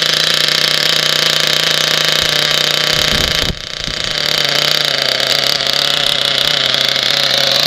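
A Kyosho Inferno Neo ST nitro RC car engine runs loud and close with a raspy, high-pitched buzz throughout. It dips briefly midway, then picks back up to a steady whine.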